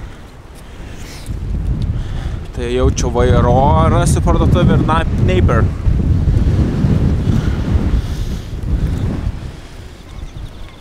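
Strong wind buffets the microphone on a cool, windy day on a lonely road, a loud continuous roar that swells and eases while someone talks over it.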